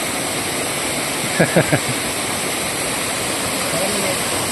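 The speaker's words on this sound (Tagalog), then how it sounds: "Hey, Layahan Falls." Layahan Falls waterfall pours in a constant, dense rushing roar, close and loud, while a brief burst of voices cuts through near the middle.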